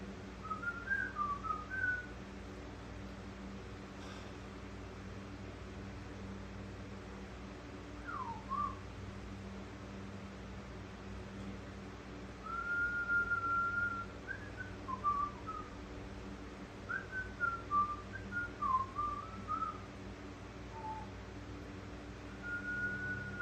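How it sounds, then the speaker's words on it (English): Someone whistles a faint, halting tune in short scattered phrases with long pauses, over a low steady hum. "Really good at whistling"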